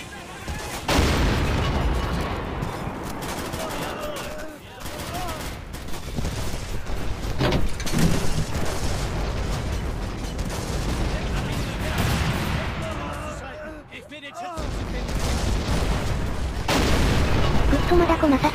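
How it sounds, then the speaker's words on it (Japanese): Artillery guns fire repeatedly in a Men of War: Assault Squad 2 battle at Stalingrad, dense booms and blasts layered continuously over a loud wartime din with voices present throughout. "目標を決定し随時射撃せよ。"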